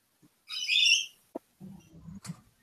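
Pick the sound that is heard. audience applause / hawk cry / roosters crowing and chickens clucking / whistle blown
hawk cry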